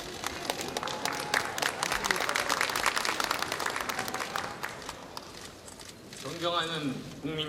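Party members at a founding convention of the New Politics Alliance for Democracy give sustained applause and cheering from a large hall crowd, a dense wash of clapping that eases off before a voice begins near the end.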